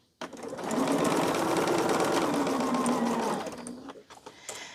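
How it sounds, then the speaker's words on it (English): Sewing machine stitching a pinned orange quilt block, a loud, close, continuous run of about three seconds that starts abruptly and tapers off. "We're pinning, just going to put that under there and get to sewing."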